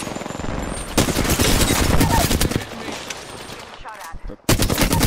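Rapid gunfire bursts in Apex Legends: a close, loud stream of shots, a quieter gap, then another sharp burst at the end, with faint voices under the firing.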